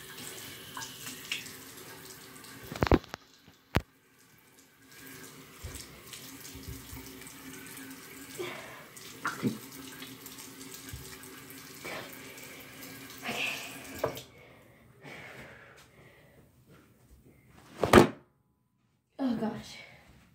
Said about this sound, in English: let me wash it off my face and I'll be back